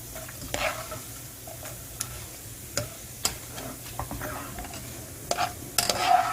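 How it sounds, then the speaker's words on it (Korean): Potato pieces deep-frying in hot oil, a soft steady crackle with scattered sharp ticks and pops, close and moderately quiet, with a small cluster of louder pops near the end. "이렇게 튀겨서 기름 빼고 식을 동안"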